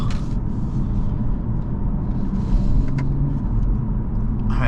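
A 2020 BMW 530d xDrive accelerates hard, heard from inside the cabin as a steady, loud low rumble of diesel engine and road noise that carries on throughout without any talk.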